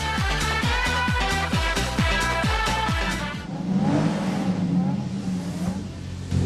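Rally car engine in the Sega Rally video game, heard as a loud rising rev repeated in quick pulses before settling into a steady, roaring whine.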